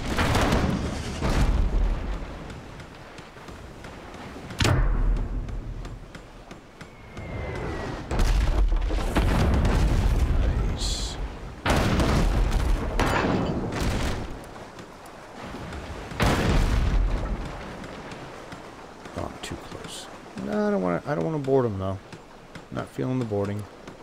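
Ship cannons fire and explosions burst in the naval combat game Abandon Ship, arriving as repeated heavy booms spread across the clip, with quieter gaps between them.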